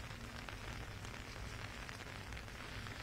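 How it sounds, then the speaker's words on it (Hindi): Heavy downpour at Dal Gate in Srinagar, Kashmir: a steady, dense hiss of rain on surfaces with constant low rumble, no breaks or voices. "अभी भी यहाँ पे जो है वो मूसलाधार बारिश हो रही है"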